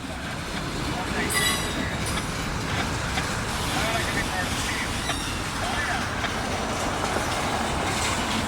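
A BNSF or CPKC freight train passes close by with a steady, loud rumble and rhythmic clickety-clack of wheels over rail joints, sustained throughout, with no talk.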